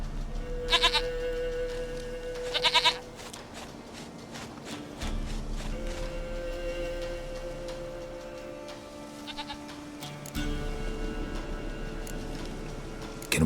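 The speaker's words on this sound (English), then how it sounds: "Goat of mine, dearest, sweetest goat." A goat in The Witcher 3: Wild Hunt bleats in a few short bursts, early and again mid-scene, over a low, droning game ambience.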